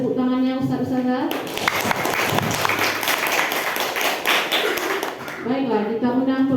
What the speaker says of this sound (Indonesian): Berikan tepuk tangannya Ustaz-Ustazah.